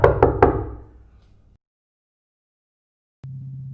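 Three sharp knocks on a door in quick succession, close and loud, each ringing out briefly, followed by silence and then a low steady hum.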